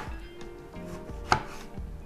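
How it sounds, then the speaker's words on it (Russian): A kitchen knife dices a tomato into cubes on a cutting board for a budget soup, giving several close, crisp chops at an uneven pace with quiet pauses between them. "Помидор тоже режем кубиком."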